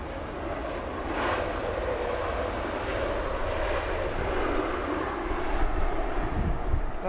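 An airliner lands at London Heathrow Airport, its jet engines a broad, loud roar that swells and rolls on steadily as the aircraft touches down and rushes along the runway.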